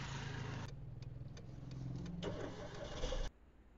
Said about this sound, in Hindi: गाड़ी को स्टार्ट करते हैं और लेकर चलते हैं घर